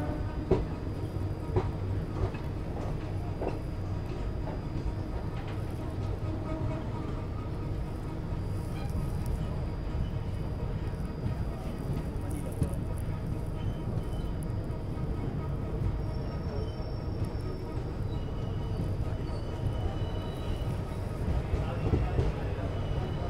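Ranikhet Express passenger train on the Jaipur to Kathgodam run, a steady low rumble of wheels and carriage motion continuing throughout, with people talking over it.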